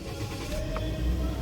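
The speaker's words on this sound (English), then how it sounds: "So I will turn on the car." A Toyota IST car engine starts and settles into running, a brief low rumble with a rising whir, heard close and alone for a moment.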